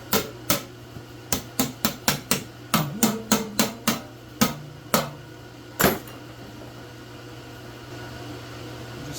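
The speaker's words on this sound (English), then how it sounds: "keep watching me stir, keep watching me stir" Rust-Oleum tractor paint mixed with reducer and hardener is stirred in a can, producing a series of sharp, irregular knocks and clinks close by, then a quieter stretch.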